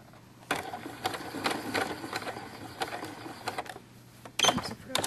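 Sewing machine with a quarter-inch foot stitching fabric for a dollhouse bed, running in several bursts with short pauses between, fairly close and steady, with a louder burst near the end.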